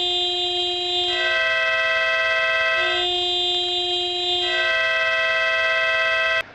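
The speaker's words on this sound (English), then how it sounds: "we'll show you the difference between the stock horn and the new air horn" A loud aftermarket air horn on a Victory Cross Country Tour motorcycle blasts three long honks in a row, each steady and harmonic-rich with a brief gap between, close by.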